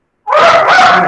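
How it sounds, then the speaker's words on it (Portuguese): A professor's dog barks close up in a single continuous, loud, strained bark-like call lasting about a second after a brief silence, during an online metallography lecture. "o cachorro do professor tá latindo na orelha"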